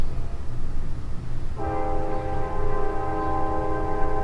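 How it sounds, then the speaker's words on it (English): A train rumbles past steadily, then its horn sounds a long, loud multi-tone blast that holds to the end, heard outdoors without talking. "there's a train."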